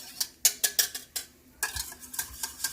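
A utensil stirring egg yolks with salt, pepper, cayenne and white wine in a bowl for hollandaise sauce, producing a quick irregular series of bright clinks and scrapes, close and fairly quiet, with no talking.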